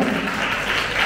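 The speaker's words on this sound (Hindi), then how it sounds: "प्लीज एक बार शिवानी मैम के लिए जोरदार तालियां हो" Audience applause at a dance audition round, a dense steady wash of clapping from a crowd lasting about a second with no pause.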